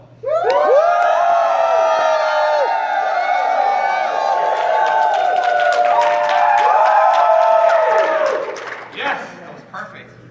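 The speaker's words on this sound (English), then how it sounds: "you gotta give me a good cheer" Fans at a Wizard World convention in Indianapolis cheering loudly, with a large indoor crowd of whoops and high shouts sustained for about eight seconds before fading into scattered calls.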